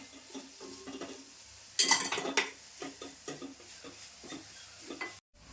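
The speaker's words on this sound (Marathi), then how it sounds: "आणि हे परतून घेते व्यवस्थित असं" Turmeric and kitchen king masala sauté in a pan with a stirring spoon scraping and clinking against metal, a louder burst of scraping midway, soft sizzling underneath, no voices.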